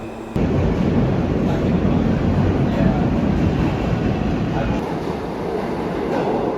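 A New York City subway train rumbles steadily with a loud, broad roar and faint rail clatter, easing slightly toward the end.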